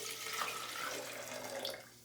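Caffenol film developer solution is poured from a tray back into a container, a soft, close, continuous trickle and splash that tapers off at the end.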